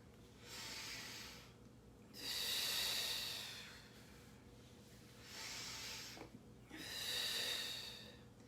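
Slow audible breaths during a mat Pilates exercise, long airy inhales and exhales alternating in four swells, close to the microphone with no talking.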